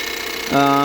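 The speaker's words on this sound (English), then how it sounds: "It is definitely a little bit of a noisy engine" A 2022 Ford Maverick XLT EcoBoost AWD pickup engine starts idling partway through, a steady droning hum with a ticking injection-pump clatter that holds to the end.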